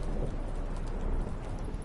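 Steady rain with low rumbling thunder from a storm in The Witcher 3: Wild Hunt, heard aboard a boat at sea, a continuous dense wash of noise with no voices.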